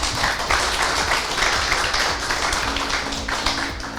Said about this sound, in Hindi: तो एक बार जोरदार तालियां उनके लिए